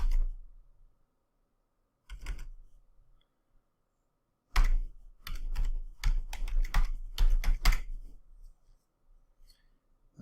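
Someone types a password on a computer keyboard, with short bursts of clicky keystrokes separated by pauses and a denser flurry near the end, close and fairly quiet.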